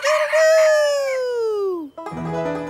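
A rooster crows a long, loud cock-a-doodle-doo, the call holding steady then sliding downward before cutting off, followed by a short burst of clucking-like fowl noise.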